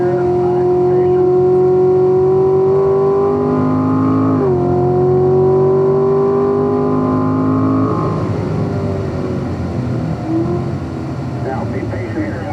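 A Corvette Stingray engine pulls hard at full throttle on a race track, a loud droning tone that climbs in pitch, dips at a shift, then climbs again before easing off, with a voice talking over it.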